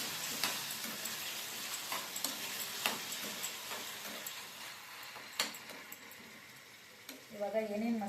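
Brinjals (eggplant) fry in a pan while being stirred, a faint steady sizzle broken by scattered clicks and scrapes of the spoon, with a brief voice near the end.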